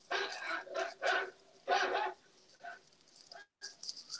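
A dog barks in several sharp bursts close by, with short pauses between barks and a few softer yips near the end; no speech.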